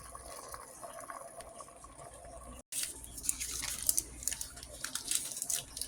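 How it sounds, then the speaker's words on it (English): Potatoes boiling in a pot of water on a home stove, a steady bubbling and hissing that swells louder after a brief dropout, with clattering kitchen noises on top. "Let's got the potatoes into the pot. Everything is boiling."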